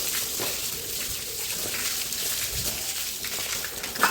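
Water from a motor pump hoses over a buffalo, a steady close hiss of spray with splashy bursts against the animal's hide.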